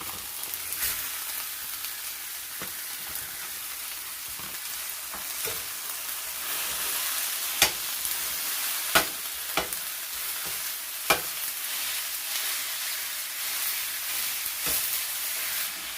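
Ground beef fries with scallion and onion in a pan, giving a steady bright sizzle with scattered sharp crackles and pops, close and moderately loud, and no one talks.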